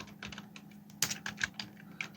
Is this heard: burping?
no